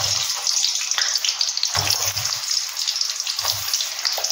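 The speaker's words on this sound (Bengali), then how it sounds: "গরম হলে এটা অল্প একটু নুন দিয়ে ভেজে নেব।" Potatoes frying in hot oil with a little salt, a bright, steady sizzle that surges and dips as pieces are stirred, with low thumps from the pan now and then.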